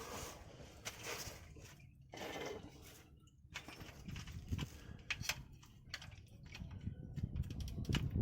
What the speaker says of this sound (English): I might start loosening the pan bolts